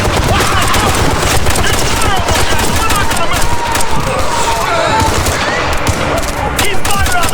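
Sustained automatic gunfire and rapid shooting from a Ghost Recon Future Soldier firefight, loud and dense throughout, with shouted voices mixed into the barrage.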